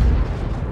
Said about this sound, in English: The shell ricocheted.